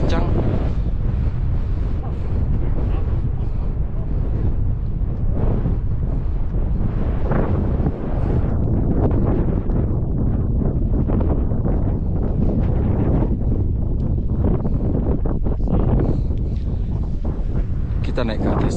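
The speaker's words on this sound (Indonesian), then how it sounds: "Angin semakin kencang." Strong gusting wind high on Mount Agung in Bali, a loud continuous roar buffeting the microphone throughout, with voices faintly mixed into the blustering noise.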